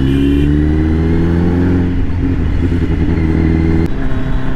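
A Royal Enfield motorcycle cruising under 80 on a slippery, rain-wet road gives a loud, steady engine drone with constant rumble and road noise close to the mic, its pitch shifting slightly partway through.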